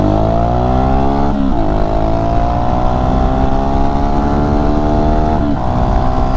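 Honda Shadow 500 motorcycle engine while riding, a loud, steady drone rising in pitch through the gears, with two brief dips at gear shifts before climbing again.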